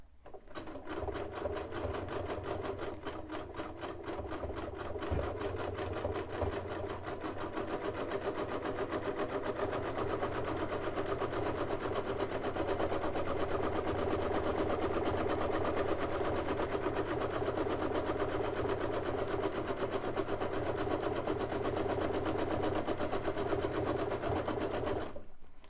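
Domestic sewing machine doing free-motion zigzag stitching with feed dogs dropped, embellishing a flower on a pants leg over the open arm; a steady, close, continuous motor whir and needle chatter runs throughout with no talking.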